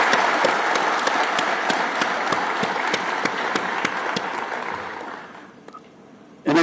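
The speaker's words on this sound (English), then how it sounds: "I propose a big applause for all of you who have received the certificate." Sustained applause from the audience at a graduation ceremony for certificate recipients, a dense, even wash of clapping that fades out over the last second before a brief thump.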